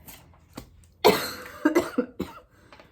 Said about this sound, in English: sorry about my dry ass cough